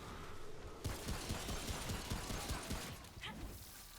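Rapid, fairly quiet gunfire in Remnant: From the Ashes comes as a steady stream of closely spaced shots over roughly three seconds. It plays against dense ambient game noise.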